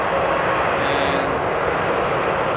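Airliner engines roar at full takeoff throttle at Frankfurt Airport, a loud, dense, steady broadband rumble filling the whole stretch without a break, no voices over it.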